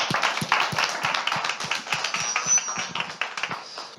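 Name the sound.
applause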